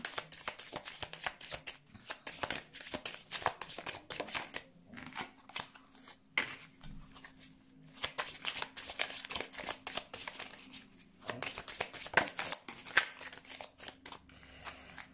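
Oracle word cards from an Irène Rust tarot deck being shuffled by hand, a steady run of close, crisp riffling flicks that continues in bursts with brief pauses, with no talking.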